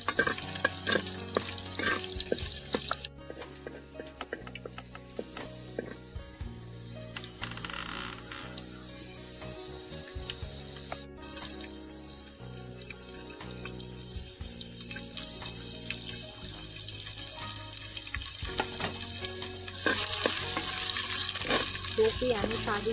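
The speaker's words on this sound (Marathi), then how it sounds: "त्याच्यानंतर मोहरी टाकतोय, थोडासा जिरा टाकतो. भाजून घ्यायचा" Mustard seeds and cumin fry in hot oil for a banana curry. A loud, steady sizzle runs throughout with intermittent crackles and stirring scrapes, and the noise grows denser toward the end.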